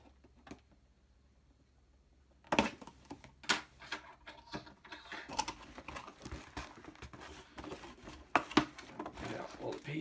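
Packaging for a LEGO Star Wars X-Wing set is torn open by hand: near silence, then a burst of close, uneven crinkling, rustling and tapping of cardboard and plastic bags that keeps going in bursts.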